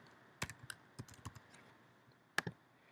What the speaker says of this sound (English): Here's where you type in my email address.